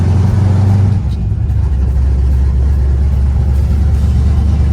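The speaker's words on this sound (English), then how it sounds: "let's go take Jesse's car for a spin." A 1970 Dodge Charger engine hums and rumbles steadily from inside the car while driving, a low constant drone with slight shifts in pitch.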